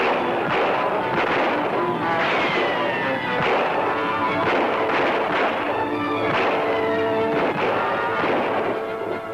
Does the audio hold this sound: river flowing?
no